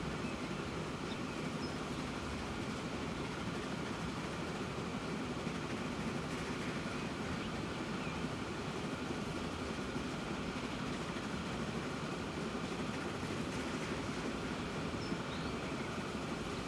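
A train rides along the Trans-Siberian Railway in the video game Transport Fever 2, a steady, unbroken rumbling roll of wheels and carriages that stays constant and fairly loud throughout, with no voices.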